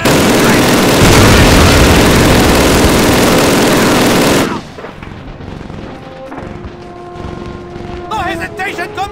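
Dense battle din from the Call of Duty Soviet campaign's Red Square assault: loud, continuous gunfire and booming blasts for the first half, then thinner scattered shots with shouting voices over the noise.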